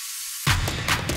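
A heavy impact effect lands in the build-up of a melodic bass electronic track, a sudden deep hit after a faint hiss, then followed by a few shorter pulsing hits.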